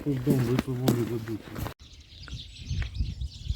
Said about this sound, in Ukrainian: слухайте, як пташки співають, наче весна. Ой, так голосно.